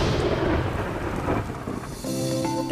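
Heavy rain pours down in a dense, loud hiss while rumbling thunder rolls through, the downpour constant from start to finish with no voices.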